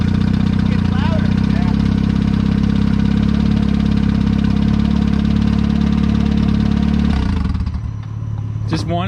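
A Honda Civic engine with a suspected rod knock idles close and loud with a steady rhythmic knocking chatter, then cuts off near the end, as brief voices are heard over it.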